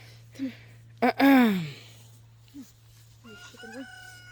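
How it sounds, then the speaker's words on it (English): A rooster crows loudly once, a long rising-then-falling call, with brief clucks before and a second rooster's wavering call near the end. "So my roosters have learned that they can make noises."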